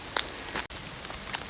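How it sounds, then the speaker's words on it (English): Heavy, persistent rain falling outdoors during a bike ride, heard as a faint steady patter with a few sharper drop hits, quiet and alone with no talking. "it's raining really heavy"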